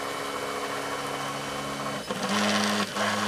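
A 3D printer printing a part runs steadily up close, its stepper motors whining in sustained tones that shift pitch as the print head changes direction, with no talking.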